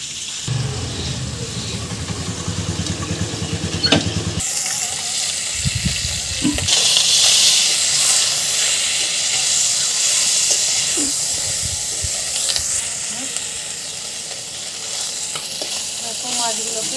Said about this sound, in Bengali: এই মাছগুলো খুব ফোটে, তাই আমি একটা ঢাকা দিয়ে দিই।